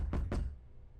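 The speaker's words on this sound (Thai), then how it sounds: "ทำไมเสียงเคาะประตูมาจากทางตู้เย็นวะ" Two quick knocks on a door in a video game, close and moderately loud, followed by quiet.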